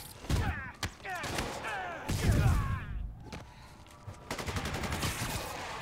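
Rapid bursts of gunfire in Marvel's Spider-Man, aimed at a wall, crackling in quick clusters among thuds and game effects, with a voice talking over parts of it.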